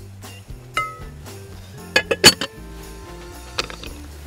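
Dishes and utensils clink a few times while meat and onion are added during outdoor cooking, with a sharp cluster of metallic and glassy clinks in the middle and a lighter one near the end.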